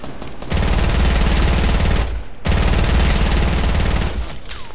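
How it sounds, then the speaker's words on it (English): Loud automatic gunfire in the Fortnite video game, two long sustained rapid bursts separated by a short pause, close and dominant with no talk over it. "Who's shooting at me?"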